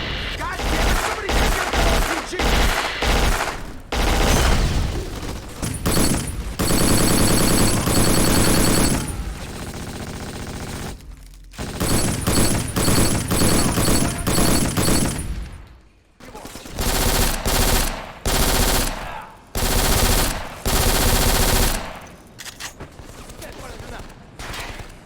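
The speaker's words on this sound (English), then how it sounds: "I just want to take a moment to highlight just how great these guns sound" Gunfire from the shooter video game Black, with rapid machine-gun bursts, heavy single shots and booming fusillades cut together in a loud, dense sequence, with brief near-silent gaps between some volleys.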